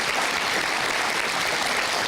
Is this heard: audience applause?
yes